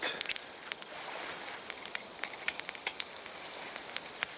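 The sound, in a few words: perch fish frying in a pan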